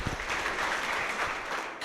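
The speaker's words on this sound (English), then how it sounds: "So can you give them one more round of applause?" Audience applause after a presentation at a community event, a dense steady wash of many hands clapping together, loud and continuous, fading out at the very end.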